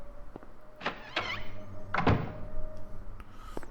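A door opening in the survival-horror game Silent Hill 1: several heavy thunks and a creaking scrape, the loudest clunk near the middle, over a steady low hum with no voices.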